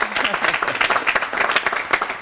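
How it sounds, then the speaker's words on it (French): An audience at a national youth council event claps in response to a request for more applause, a lively burst of many hands at moderate loudness with uneven pulses. "Applaudissements encore, mon chef, s'il vous plaît."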